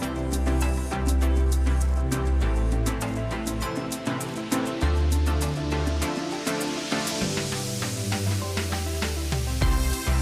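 Grated potato stirred into spices in a hot pan gives a steady, loud, close sizzle with scattered crackles and scraping, without talk.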